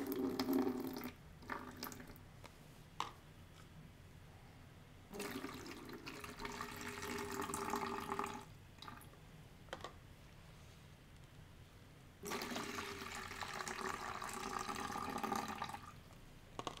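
Water being poured off enamel wash at a workbench, splashing and trickling in several separate pours with quieter handling noise and a low hum between them.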